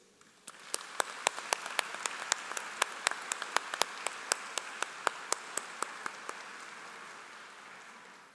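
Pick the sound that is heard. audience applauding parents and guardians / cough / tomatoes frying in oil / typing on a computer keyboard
audience applauding parents and guardians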